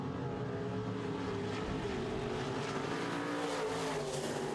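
Midwest modified race cars roar around a track during a heat, a loud, continuous engine drone with layered overlapping motors and shifting pitch as the pack passes, sustained without pause.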